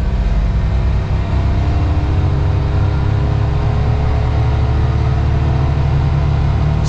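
A 2026 Can-Am Defender Limited HD11 UTV accelerates smoothly, its engine a steady, loud, close rumble with a constant drone throughout and no talking.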